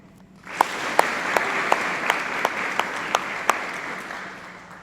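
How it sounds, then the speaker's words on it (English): A crowd applauds steadily for several seconds at a graduation ceremony, with a series of sharp, regular booms or claps punctuating the clapping. "Let's have a warm round of applause for the team."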